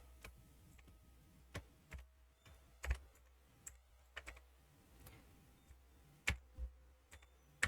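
Password being typed on a computer keyboard, a quiet run of separate key clicks with irregular spacing and a few sharper strikes, close and alone without any talk.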